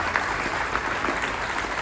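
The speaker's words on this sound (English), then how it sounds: "give yourself a big round of applause for that" An audience applauds at a spoken-word event, a steady, dense wash of clapping that holds loud and even throughout the short stretch.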